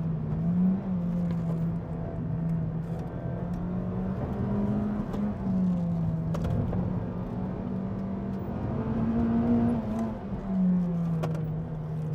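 A Honda Civic Type R EP3 screams toward 8300 rpm from inside the cabin. Its whining engine note climbs and drops repeatedly across gear changes over about twelve seconds of sustained, loud revving.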